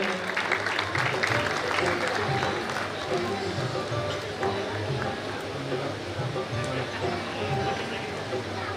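An audience at a community prize-giving ceremony breaks into applause, a continuous crowd clapping that holds steady throughout, with some voices mixed in.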